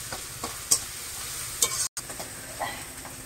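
Spices frying in a pan as ginger-garlic paste goes in, the base for a mustard-paste fish curry; a steady close sizzle with a few clinks of stirring and a brief dropout midway, no voices.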